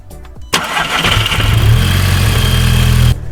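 A Mk5 Golf GTI fitted with a cold air intake cranks briefly, then fires with a loud sudden catch, slightly grumbling, and settles into a steady deep idle before cutting off.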